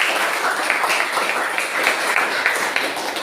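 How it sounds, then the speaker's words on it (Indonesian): Classroom applause for student presentation groups, a brisk patter of many hands clapping together at a fairly loud, even level for a few seconds. "Tepuk tangan dulu untuk semua kelompok."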